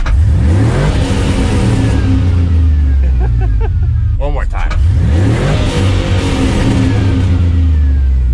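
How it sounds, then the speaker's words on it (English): A turbocharged 6.0 LS V8 run off its tuning chip roars loud and close, revving hard with a brief stutter midway before climbing again. A voice speaks briefly over it. "let's hear what it sounds like off the chip"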